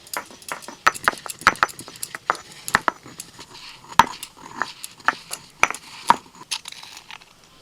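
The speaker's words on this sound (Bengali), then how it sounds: "ভাজা মশলাটা এইভাবে হামাল দিসটা একটু গুঁড়িয়ে নিচ্ছি।" Roasted spices being pounded in a mortar and pestle for a Kolkata-style egg devil, with sharp, irregular clinks and knocks of the pestle striking the bowl at close range, some blows louder than others.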